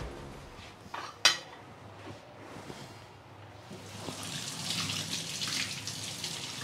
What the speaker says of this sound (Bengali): আমি থালা বাসন ধোবো?